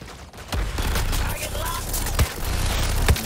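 Heavy artillery and gunfire roar in the video game Suicide Squad: Kill the Justice League, a dense, loud barrage with a few heavier booms, mixed with game sounds and a player's voice.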